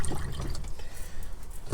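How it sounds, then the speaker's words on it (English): Water runs from a tap while hands are washed at a kitchen sink, giving a short, close splashing and trickling that varies as the hands move under the stream. "Let me just wash my hands."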